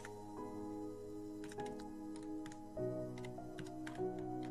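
Typing on a computer keyboard while entering text into a spreadsheet cell, soft rapid taps in irregular clusters over a steady background of sustained musical tones.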